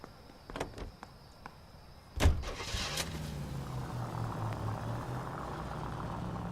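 A car in the crime video game LA Noire, with a door clunk and a rising engine start followed by a steady low idle hum, close and moderately loud after a few faint clicks.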